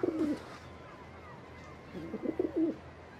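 A pigeon cooing softly nearby, two short bursts of throaty coos separated by a quiet pause, set against a low background hum.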